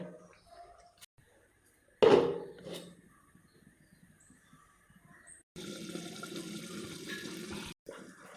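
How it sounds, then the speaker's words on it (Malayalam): Water splashes into a pot of Kerala bitter gourd curry being cooked, a short burst of pouring followed later by a steadier, louder running-water sound near the mic. "ഇതിലേക്ക് വേവാൻ കുറച്ച് വെള്ളം കൂടി വയ്ക്കുന്നുണ്ട്"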